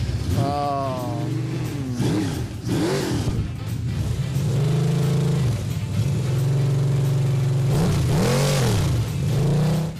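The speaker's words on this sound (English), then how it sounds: "They hear an engine fired up, they just come out of the woodwork." A car engine mounted on an engine stand in a garage revs hard and close in repeated throttle blips and sustained roars, its pitch swooping up and down, with brief voices mixed in.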